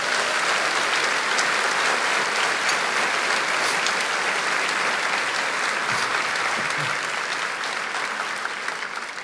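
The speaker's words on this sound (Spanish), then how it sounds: "Vamos a darle un aplauso fuerte al Señor." A church congregation applauds loudly during a sermon, a continuous wash of many hands clapping that holds steady and fades slightly toward the end.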